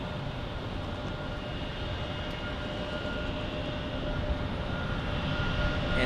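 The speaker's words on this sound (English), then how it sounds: "And then we have JetBlue 319 from Boston." A JetBlue Airbus A319 from Boston passes at a distance, a steady, fairly faint broadband engine rumble with a faint whine, growing slightly louder toward the end.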